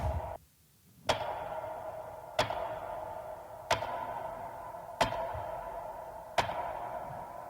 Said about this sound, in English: So these are metronome clicks.